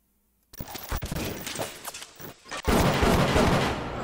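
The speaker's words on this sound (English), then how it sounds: "Is someone behind me shooting me?" Bursts of gunfire in the video game BioShock, a rapid volley of loud shots erupting after a brief silence, then a dense, sustained barrage of firing close up.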